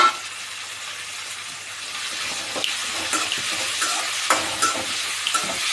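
Curry leaves and coriander sauté in oil for a garlic pepper kuzhambu, giving a continuous close sizzle with intermittent stirring scrapes and clicks.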